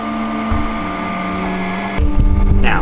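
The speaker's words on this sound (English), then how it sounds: "Now it's printing smooth as butter." A Robo3D R2 3D printer running steadily, its stepper motors giving a continuous whirring hum with tonal whines that shift pitch as the head moves, growing slightly louder and busier near the end.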